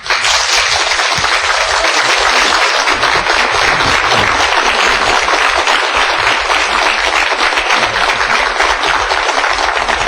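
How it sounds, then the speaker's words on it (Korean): A lecture audience breaks into loud, sustained applause to welcome a guest speaker, a thick wash of many hands clapping that carries on evenly for ten seconds without voices. "큰 박수로 맞아주시기 바랍니다."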